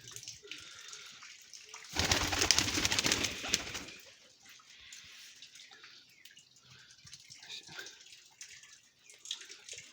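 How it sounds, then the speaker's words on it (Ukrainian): A solid dark chocolate-coloured Baku pigeon coos softly at close range, a short burst of louder cooing and fluttering near the start, then quieter coos over faint background noise. "Цей голубок."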